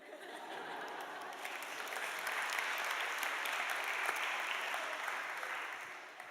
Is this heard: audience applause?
yes